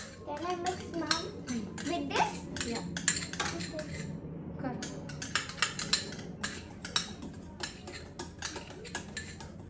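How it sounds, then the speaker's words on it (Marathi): A spoon scrapes and clinks against a bowl, stirring ghee into a paste of dates and milk. The strokes are rhythmic and fairly close, with quiet voices talking underneath. "हे तूप घालून याच्यात मिक्स करून घ्यायचं"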